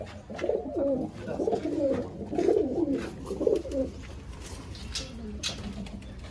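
Pigeons coo in soft, repeated throaty phrases close by, several calls in a row over faint outdoor background noise.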